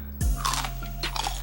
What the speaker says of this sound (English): Crunchy ass chicken tender.